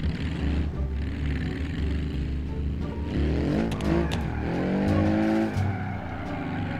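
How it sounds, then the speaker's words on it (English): A car drifts in the BeamNG driving game, its engine droning steadily while tires squeal in rising, wavering bursts through the middle of the clip, loud and close. "It actually wants to drift somewhat nice."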